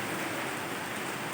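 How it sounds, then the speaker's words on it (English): Steady late-afternoon rain hisses evenly and continuously, a dense, close wash of falling water with no voices. "We have rains, so it started earlier."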